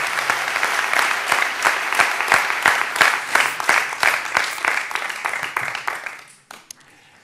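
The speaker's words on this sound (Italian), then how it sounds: "Fate un applauso a questo primo piano." Italian television studio audience claps in a brisk, rhythmic round of applause, loud and close, breaking off abruptly near the end with a few stray claps.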